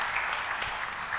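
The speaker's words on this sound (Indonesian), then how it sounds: "Boleh tepuk tangan Bapak Ibu supaya nggak tegang juga." Wedding guests at a church marriage blessing service give a brief, soft round of applause, a steady patter of clapping at a moderate distance.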